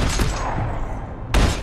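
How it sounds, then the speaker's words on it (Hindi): Two loud bursts of rapid gunfire in the video game Max Payne 3, one at the start and one near the end, with a ringing echo in between. "मैं लेट आवा हूँ और गोली चला रहा हूँ"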